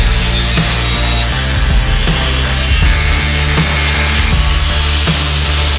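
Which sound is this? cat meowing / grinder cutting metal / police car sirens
grinder cutting metal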